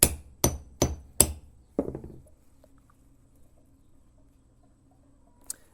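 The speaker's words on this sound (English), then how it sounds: "I'm operating the hammer with my right." A hammer strikes a metal lopper during maintenance, four sharp evenly spaced blows followed by a softer fifth with ringing decay, then near silence and one faint click at the end.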